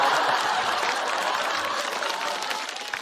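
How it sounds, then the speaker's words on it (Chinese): A studio audience at a stand-up comedy show bursts into loud, sustained applause that fills the whole stretch, dense clapping with crowd noise fading slightly toward the end. "让我们把掌声送给5哈的重点邓超老师"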